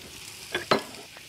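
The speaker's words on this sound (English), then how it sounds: "Sizzle that up." Chilli and onion sizzle in hot oil in a frying pan, with a short burst and then a louder, sharper crackle as food lands in the pan, fading back to a quiet hiss.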